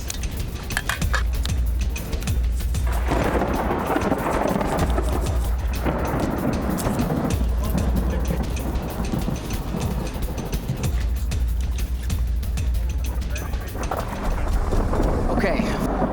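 Heavy thunderstorm with rain and close lightning over an outdoor cook-off in Vryburg, South Africa, with thunder rumbling and steady rain hissing loudly throughout, swelling in waves and rumbling deep in the low end.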